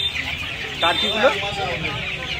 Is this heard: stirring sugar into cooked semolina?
no